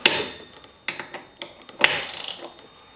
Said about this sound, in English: you can always leave your ratchet wrench on and just give it a little bit of a hand tight